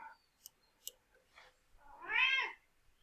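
A cat gives a single short, faint meow after a few soft clicks and rustles in an otherwise quiet room.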